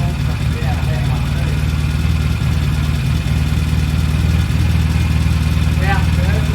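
An engine idling at around 1,500 rpm after its carburetors were balanced, a loud, steady, even mid-pitched drone with no rise or fall, with faint background voices.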